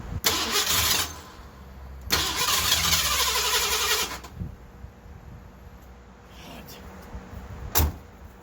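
A Ford LTD engine, freshly fitted with a new camshaft and with its timing adjusted, cranks and catches in loud, close bursts, dies back, then cranks again before settling into a rough idle.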